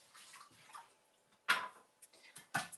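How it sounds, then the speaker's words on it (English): A star stencil rinsed in water, giving quiet splashes and sloshing with a few sharper, louder splashes near the end, heard close in an otherwise quiet room. "By cleaning your stencil in water as opposed to with a wipe, you get more of the pigment off a lot faster"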